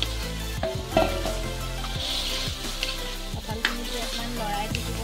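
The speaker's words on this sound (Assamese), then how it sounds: "এনেদৰে লৰাই থাকিম বিলাহীখিনি গলি গৈছে" Tomatoes and jackfruit for a jackfruit curry sizzle steadily in a pan while a spoon stirs them in repeated scraping strokes, with the frying hiss continuous and close throughout.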